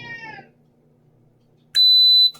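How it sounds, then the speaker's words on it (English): After a short squeaky chirp and a quiet pause, a single sustained electronic beep sounds loudly for about half a second. "in a second, it's going to beep, which means it's starting."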